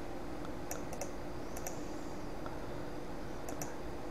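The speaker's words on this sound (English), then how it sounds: "As soon as you start typing Handbrake, sometimes it won't show up, sometimes it will." Scattered keystrokes on a computer keyboard at an Ubuntu 11.04 desktop: a few light clicks in small clusters, spaced irregularly, over a faint steady background hiss.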